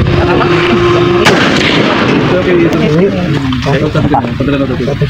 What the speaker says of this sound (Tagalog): If you're ready, commence firing.